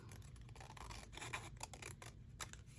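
Scissors snip through paper from a composition-book journal page, cutting around a printed picture with a series of short, close, quiet crisp cuts and scratchy rustles, no talking.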